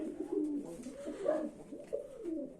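Pigeons coo softly and steadily in a pigeon loft, with several birds, including a pair of blue pigeons, overlapping in a continuous low, rolling murmur at close range.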